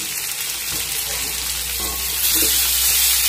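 Oil heating in a pan for stuffed eggplant curry, giving a steady bright sizzle with a few soft clinks, and the hiss swelling louder toward the end.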